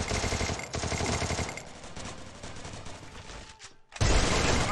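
Rapid bursts of automatic gunfire in a video game crackle loudly during a 4v4 match, fade to scattered shots, then erupt again in a sudden heavy volley at the end.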